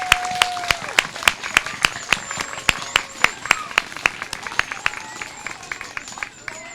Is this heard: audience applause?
yes